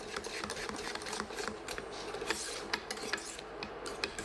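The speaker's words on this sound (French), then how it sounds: "Je fais chauffer ma crème sur feu moyen sans cesser de remuer" Pastry cream for a strawberry tart stirred in a saucepan over medium heat, a close, continuous scraping and rubbing of the utensil against the pan with faint bubbling.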